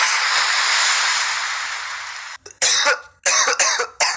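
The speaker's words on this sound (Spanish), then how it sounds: "El de un señor tosiendo." A man's coughing sound effect from a meme sound app: a stretch of steady hiss, then a run of several sharp, close coughs in quick bursts.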